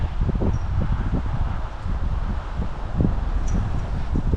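Wind gusts across an outdoor trail on a cool day, a steady low rumble of buffeting against the microphone with faint rustling throughout, loud and close.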